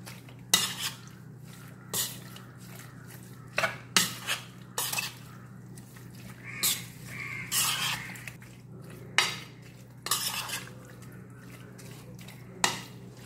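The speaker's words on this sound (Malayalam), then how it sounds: "കുറച്ച് കറിവേപ്പില ചേർത്ത് കൊടുക്കുക. ഇതെല്ലാം കൂടെ ഒന്ന് മിക്സ് ചെയ്യുക." A spoon clinks and scrapes against a metal pot while beef pickle mixture with curry leaves is stirred, sharp knocks at irregular intervals over a quiet background.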